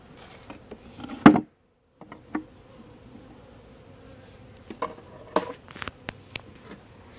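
Bees buzz around a beehive entrance, close-up and fairly faint, with several short sharper buzzes and light knocks against the wood.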